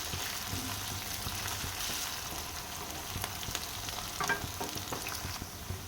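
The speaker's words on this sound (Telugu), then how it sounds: "2 రెమ్మలు కరివేపాకు వేసి బాగా ఫ్రై చేయాలి." Two sprigs of curry leaves frying in oil with garlic paste for a tempering: a quiet, continuous close sizzle with light stirring scrapes and a few crackles.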